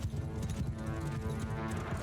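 Cavalry horses in Mount & Blade II: Bannerlord, a dense battle din of hoofbeats with a steady clip-clop texture and occasional whinnies, loud and continuous throughout.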